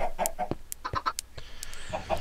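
Video-game chickens cluck in short, choppy bursts, several birds close by with sharp clucks and squawks, clear and alone without any talk.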